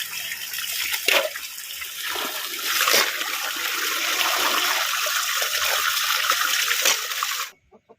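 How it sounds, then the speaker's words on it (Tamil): Snails for a snail curry are rinsed in water, a steady rushing splash with a few sharper sloshes that runs for about seven seconds and then stops abruptly. "இனிமேல் நத்தை வந்து அலசிக்குவோம் இந்த மாதிரி நல்லா அலசி எடுத்துக்கலாம்"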